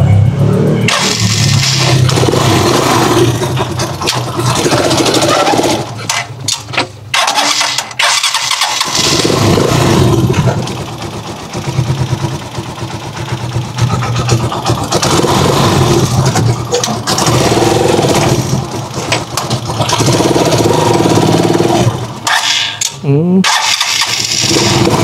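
A motorcycle-based chariot engine cranks and starts, then runs loudly up close with revving and uneven idling, briefly faltering before catching again, while people talk over it.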